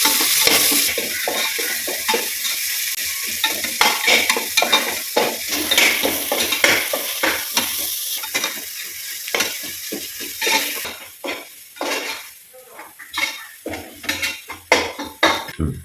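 Onions and ground spice paste sautéing in oil in a pan for a vegetable biryani, with a constant sizzle under repeated scraping and stirring strokes of a spoon against the pan.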